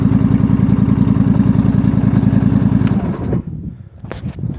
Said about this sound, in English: Big noisemaker. See? Way too loud. Actually, I really don't like that exhaust.